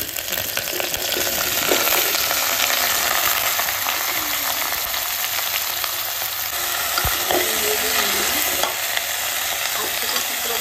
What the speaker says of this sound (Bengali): এবার আমি আলু আর বেগুনটা মধ্যে দিয়ে দিচ্ছি